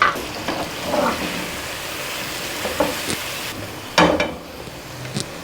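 Spices are stirred into bitter gourds cooking with chana dal in a hot pan, giving a continuous sizzle broken by several scraping stirs and a louder clatter midway.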